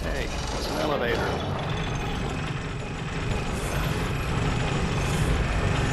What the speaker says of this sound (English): we're gonna pop in here and hey, it's an elevator